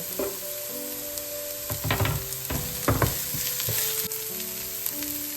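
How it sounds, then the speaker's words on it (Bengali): Onion, grated ginger and garlic, and green chillies fry in a pan with a continuous close sizzle, punctuated by bursts of stirring and scraping, while a steady tonal hum runs underneath. "এবার আমি এর মধ্যে এই গ্রেট করে রাখা আদা রসুন দিয়ে দেবো আর কাঁচা লঙ্কাগুলো দিয়ে দেবো দিয়ে আবার এটাকে কিছুক্ষণ ভেজে নেব"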